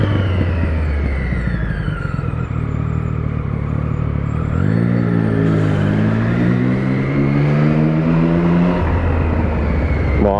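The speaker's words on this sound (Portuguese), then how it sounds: "O cara acelerou" A vehicle in city traffic accelerating, its engine revving up in a rising, harmonic-rich whine, holding high, then dropping back to idle, loud and near over steady road noise, with no speech.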